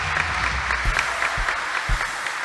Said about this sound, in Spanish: Vamos a darle ese aplauso grande al Señor